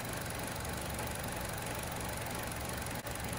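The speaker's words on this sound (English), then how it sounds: "I'm gonna let it idle." Chevrolet Cruze engine idling at its first startup after a turbo install, a steady low rumble with a faint even knock, continuous and close, with one brief dip near the end.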